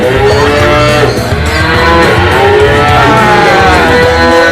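Loud, close cattle mooing at a cowshed with a calf, several long drawn-out lowing calls overlapping continuously with no pauses.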